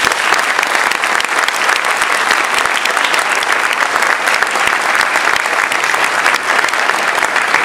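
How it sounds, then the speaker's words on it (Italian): Warm, loud audience applause at the presentation of a youth band concert in Asti, continuous dense clapping filling the hall for several seconds without talk. "per i quali chiedo un caloroso applauso"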